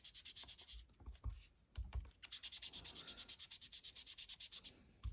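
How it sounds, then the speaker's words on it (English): Steady rubbing over a freshly stamped ink grass image on white cardstock, a quick rhythmic scrubbing at close range, alone with no talk, after a few sharper taps near the start. "And I'm just rubbing over where I stamped."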